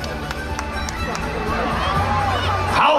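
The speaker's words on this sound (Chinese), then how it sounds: "好，掌声鼓励一下。" An outdoor crowd at a military-village culture festival family picnic day on the Longgang sports field in Taoyuan fills the air with a steady, dense roar of cheering and clapping, with voices mixed in throughout.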